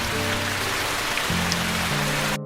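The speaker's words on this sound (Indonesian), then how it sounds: "Ketika hujan turun deras" Heavy rain pours steadily in a dense, even hiss, with a low hum underneath, and then cuts off abruptly at the end.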